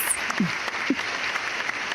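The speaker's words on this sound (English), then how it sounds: "there's applause there" Applause at a beach cleanup event, a soft, steady patter of distant clapping running throughout with a couple of brief higher sounds over it.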